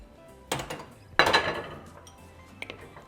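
Meat is dropped back into a pot of pot roast and stirred, giving two clattering knocks of metal against the pot followed by a faint later clink, close and alone.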